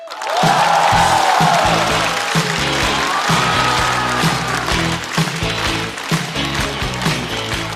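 A studio audience at a Chinese stand-up comedy show applauds to welcome a comedian onto the stage, a loud sustained clapping with some cheering that continues throughout, with a rhythmic tapping or stomping underneath.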